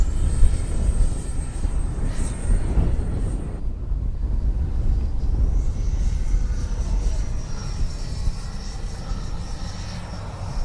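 A HobbyKing Viper 64 RC model jet's motor drones continuously in flight, a loud, steady airborne whine mixed with heavy wind rumble on the microphone.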